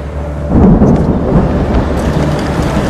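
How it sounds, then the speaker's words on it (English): Low rolling thunder from an approaching storm swells into a heavy, close rumble that lingers, with a faint wash of rain beneath it. "An approaching downpour threatens to grow into a lightning storm."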